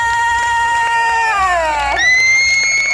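At a band contest in Rayong, a young crowd cheers and shrieks for the band in loud, sustained high-pitched whoops and screams that rise and shift pitch, with little applause audible.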